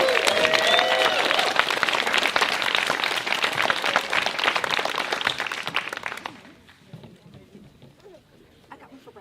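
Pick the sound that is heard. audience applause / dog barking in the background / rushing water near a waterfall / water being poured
audience applause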